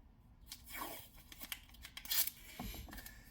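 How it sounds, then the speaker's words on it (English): Adhesive tape torn off a roll while taping up a rifle lower receiver, a few quick ripping and crinkling bursts at close range with no talk. "Let me tape up this lower"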